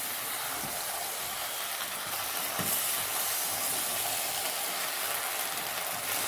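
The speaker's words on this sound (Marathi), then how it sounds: "सर्व मिश्रण चांगल्या प्रकारे परतून घ्यायचे आहे." Ginger and spice mix sautéing in a hot pan during a soybean chilli recipe, a steady close sizzle and hiss that runs throughout with no talking.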